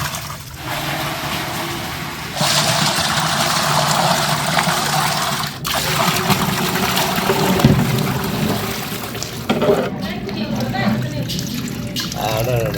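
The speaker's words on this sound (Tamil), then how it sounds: "66 லிட்டர் தண்ணி ஊற்றிக்கலாம்." Water gushes steadily into a large pot for Dindigul mutton biryani cooked for 300 people, a continuous close pouring rush with slight shifts in flow and occasional clanks of the vessel.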